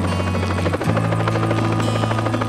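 A helicopter drones loud and steady with a strong low rotor throb and a whining engine tone that dips briefly, filming a national motor race series.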